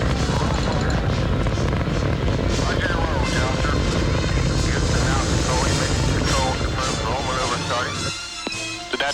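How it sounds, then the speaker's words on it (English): The Space Shuttle STS-7 main engines ignite and lift off, a dense, loud, continuous roaring rumble that fills the scene and eases slightly at the end, while a voice commentates over it. "we have main engine start and ignition and liftoff"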